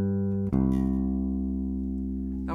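An electric bass is plucked near the back pickup with both pickups turned fully up, one note ringing out and then a second attack sustaining with a deep, steady, slowly fading tone, no talk.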